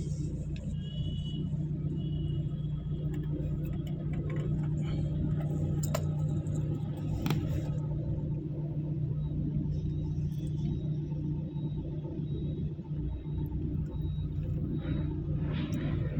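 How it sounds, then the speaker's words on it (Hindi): A strong storm in Gohana buffets a car, heard from inside as a continuous deep, loud rumbling roar with faint rattles and higher whooshes rising over it, steady for the whole stretch. "जब तूफ़ान के झोंका जब टकराता है गाड़ी से तो मुझे एहसास होता है गाड़ी एकदम हिल रही है हमारी।"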